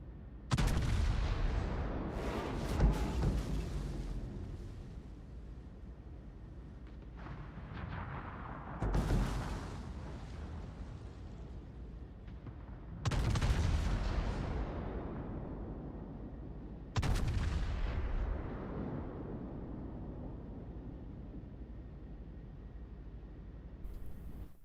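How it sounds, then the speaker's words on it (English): Heavy cruiser naval guns boom in World of Warships, several deep, loud salvos spaced a few seconds apart, each rolling into a long rumbling decay over a steady background drone. "Cruiser guns."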